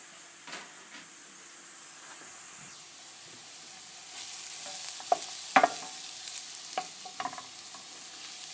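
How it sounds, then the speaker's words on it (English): Mushrooms sizzle quietly in a pan while cooking down for a risotto, a soft frying hiss with a few small clinks and stirring taps toward the end; no one talks. "we can now add the mushrooms gently in. Cook them down for a minute"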